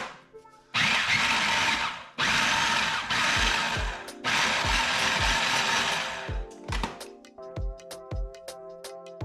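A food processor pulsing flour and butter for biscuit dough: several loud whirring bursts of a few seconds each, separated by short pauses, then clattering knocks as the machine stops.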